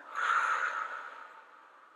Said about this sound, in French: Et on souffle.